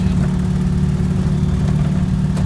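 Air-cooled engine of a vintage Honda N360 kei car runs steadily, a loud continuous buzzy drone with low rumble heard from inside the small car, no talking.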